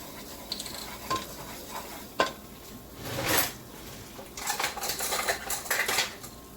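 Flour and butter cooked together in a pan for potatoes au gratin, heard as close, steady scraping and stirring of a utensil against the pan with clinks of metal on cookware and a faint sizzle, with no talk.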